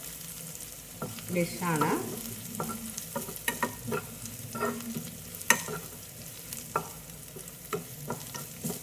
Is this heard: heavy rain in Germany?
no